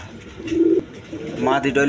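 White Danish and Lotan pigeons coo in a pair, a low rolling coo building and falling twice over a couple of seconds, close by with a busy background murmur.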